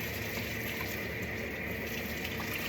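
Tap water runs steadily into a basin as it warms for a dog's bath, a constant close rushing splash with no change and no voices.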